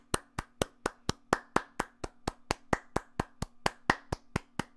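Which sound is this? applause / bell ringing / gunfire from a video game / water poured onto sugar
applause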